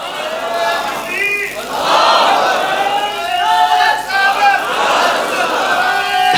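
A large crowd at a religious gathering shouts a slogan in unison, loud rising and falling chants in several waves that fill the hall.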